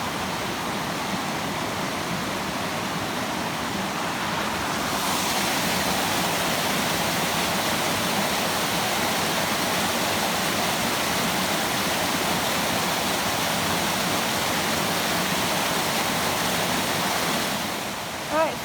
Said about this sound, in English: we're closer to this magnificent waterfall